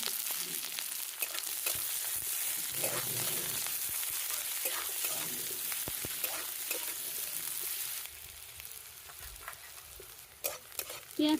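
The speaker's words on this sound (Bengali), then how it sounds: "তেল গরম হয়ে গেছে, পেঁয়াজ কুচি দিয়ে দিলাম।" Chopped onion sizzles in hot oil for a chana masala with chicken skin, a steady close-up crackle with occasional stirring scrapes and no talking.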